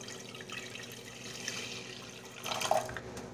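Water pours steadily into a heavy-bottomed pot of ground rice in a home kitchen, a faint continuous trickle that swells briefly near the end.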